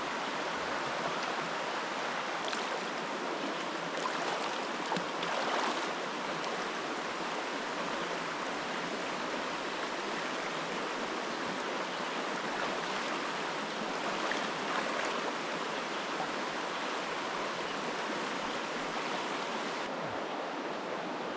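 A cold stream rushes steadily in the Blue Ridge Wildlife Management Area, a continuous broad wash of flowing sound with no voices.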